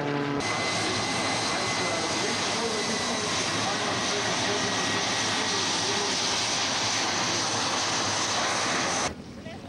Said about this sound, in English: Here comes the Formula D planes.